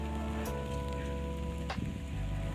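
Rain falls steadily on a rural village yard with vegetable plants, a continuous patter close by with a low background hum.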